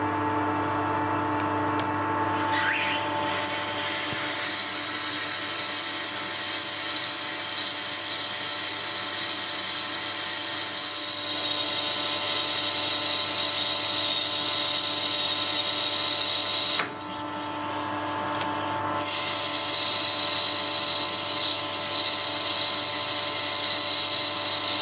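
A lathe cutting through the hardened surface layer of a scrap hydraulic piston rod: a continuous high-pitched cutting whine over a low machine drone, briefly dropping out and then resuming.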